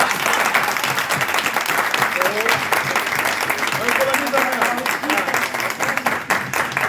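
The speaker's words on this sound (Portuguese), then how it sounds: "Pode aplaudir, gente." An audience at an event launching a channel for reporting workplace racism applauds, sustained dense clapping from a crowd with a few voices calling out and murmuring beneath it.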